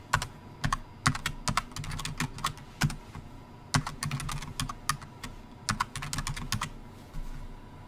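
Fast, steady typing on a computer keyboard while coding: dense runs of crisp, close key clicks broken by brief pauses, over a low room hum and with no speech.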